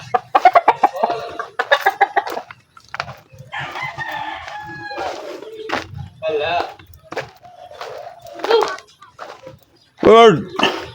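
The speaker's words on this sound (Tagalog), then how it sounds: "Bird." Chickens cluck and a rooster crows nearby in a rural yard, with a burst of loud crowing near the end; a person talks intermittently between the calls.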